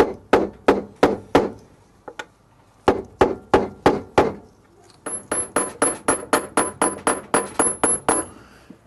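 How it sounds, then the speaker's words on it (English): Sharp metal-on-metal hammer blows drive a large flat chisel against a washing machine bearing, first in a quick uneven series, then a steady run of ringing strikes, loud and close with no talking. "I'm just using a large flat chisel just to get it for those last few millimetres"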